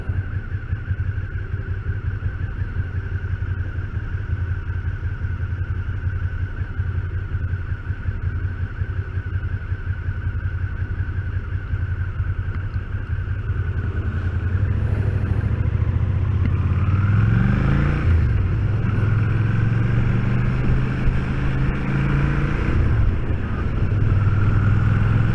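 Motorcycle engine running steadily while riding uphill toward a national park, with a rising and falling rev pattern as the bike climbs; no talking.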